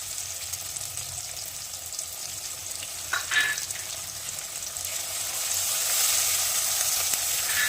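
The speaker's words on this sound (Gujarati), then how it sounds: "હવે આપણે ગેસની ફ્લેમ થોડી ધીમી કરી અને ડુંગળી અને ટામેટાને સરસ ચડી જવા દઈશું।" Onions and tomatoes cooking gently in a pan over a low gas flame for a vegetable curry, giving a steady soft sizzle with a brief clink of utensils midway, the frying growing slightly louder toward the end.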